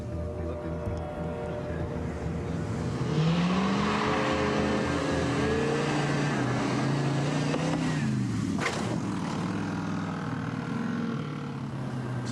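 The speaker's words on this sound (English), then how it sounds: "So we're just testing the car to make sure we have everything dialed." A stunt car on a test jump revs and accelerates hard, its engine note climbing and shifting, then a sharp impact thud near the end before the motor carries on.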